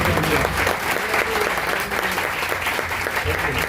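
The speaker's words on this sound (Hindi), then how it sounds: "जोरदार तालियां इस इंस्टीट्यूट के साथ के लिए।" A church congregation at a live worship service in Pakistan bursts into loud, sustained applause, a dense wash of clapping filling the hall, with a voice heard over it.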